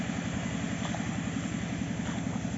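Close and constant, a walking tractor engine chugs evenly while driving a foliar fertilizer spray pump, its rapid regular throb holding steady from start to finish.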